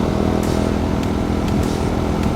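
A motorcycle engine idles with a steady low burble, close and fairly loud, with a few faint ticks over the rumble.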